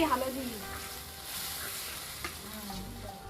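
Prawns and spices frying in a pan give a steady, close sizzle with soft stirring scrapes, while a brief voice is heard near the start.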